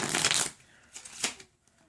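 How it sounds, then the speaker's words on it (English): A deck of playing cards is riffled and shuffled in close detail, one long crisp burst followed by two shorter flutters, quiet otherwise. "you can shuffle them if you want"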